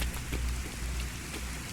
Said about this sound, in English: Rain approaching.